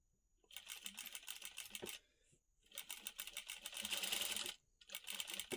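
A domestic sewing machine stitches thread piping onto a straight-cut cloth strip, its rapid needle clatter running in close bursts broken by short pauses where the fabric is adjusted.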